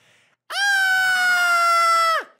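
A voice imitates the scream of the cartoon character Nereus: one sustained, loud, bright shriek lasting nearly two seconds, steady in pitch and then cut off sharply, following a brief faint sound.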